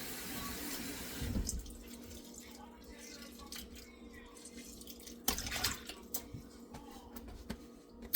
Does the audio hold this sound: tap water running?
yes